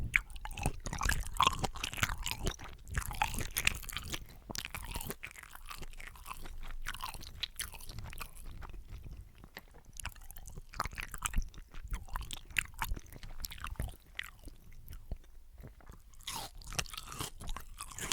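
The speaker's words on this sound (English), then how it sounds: "Get some of the rice and the sauce for the first bite." Close, quiet chewing of a spoonful of gumbo with rice and sauce, soft wet crunches and squishes repeating in an irregular rhythm, with no talking.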